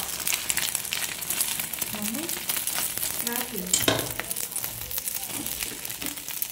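Food frying in hot oil, a dense, steady sizzle with occasional stirring scrapes. A voice is heard briefly over it.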